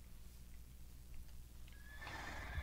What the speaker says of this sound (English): I don't know how I'm gonna get this horse out